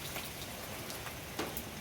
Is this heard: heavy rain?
yes